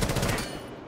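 A burst of gunfire in Rainbow Six Siege is loud at first, with a quick rattle of shots that fades out within a second.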